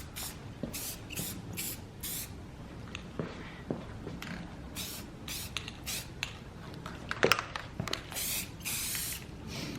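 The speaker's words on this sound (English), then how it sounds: "So now I'm gonna go through individually and spray them one more time." Spray paint hisses onto resin pieces in a series of short, sharp bursts, each a few fractions of a second long, with quiet pauses and faint handling noise between them.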